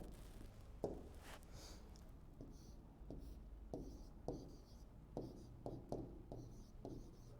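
A pen writing by hand on an engineering drawing of an orthographic projection, giving faint, close scratchy strokes in short intermittent bursts with quiet pauses between them.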